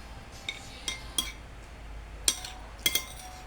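Metal utensil clinking against a bowl while beating egg with dried anchovies (dilis), onion, tomato and garlic for tortang dilis; five or six sharp, separate clinks at irregular intervals over a quiet background.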